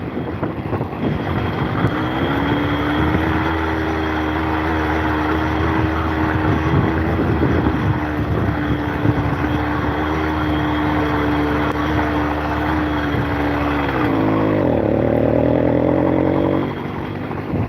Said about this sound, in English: Another plane taking off at Glasgow Airport.